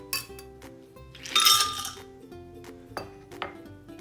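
Ice cubes tumble into a blender jar for an avocado-lime smoothie, with sharp clinks and a short rattling clatter, then a few scattered knocks against the hard container.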